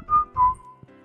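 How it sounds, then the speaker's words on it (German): Someone whistles two short sustained notes followed by a longer sliding tone, close and clear, with a faint background hum. "Das Pfeifen."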